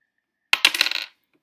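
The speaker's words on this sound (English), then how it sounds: "Renee, go ahead and roll the dice again." Dice tossed onto a surface during a math fact baseball game: a quick clatter of several sharp hits followed by a short rattling tumble that settles within about half a second, close and clear with no talking.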